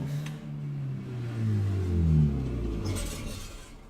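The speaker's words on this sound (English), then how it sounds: "And my neighbors with the really loud car." A neighbour's very loud car in the Factorio megabase, a low rumbling engine drone that swells and fades over a few seconds, close and steady with no talk.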